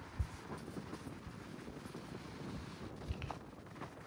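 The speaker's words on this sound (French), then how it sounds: "Voilà, le vent se lève." A gusty west wind picking up outdoors before a thunderstorm, a steady broadband rush with low rumbling buffets against the microphone and occasional thumps, no voices.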